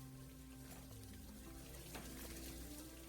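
Water runs over the plastic lid of an XKAH Pro as it is rinsed, a steady soft splashing stream lasting a few seconds, fairly quiet and without talk.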